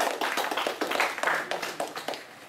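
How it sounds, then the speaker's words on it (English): A small audience at a talk about cricket claps, sparse and fairly quiet, with individual hand claps standing out in an uneven rhythm. "So give him a round of applause."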